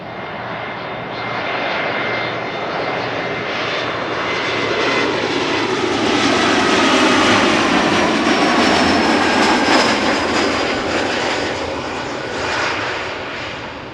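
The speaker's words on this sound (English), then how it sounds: "KLM Flight 1052 arriving from Norwich, Embraer 175, 36 minutes underway." A KLM Embraer 175 from Norwich lands at Schiphol with a loud, steady jet-engine roar that swells gradually and carries a faint whine throughout.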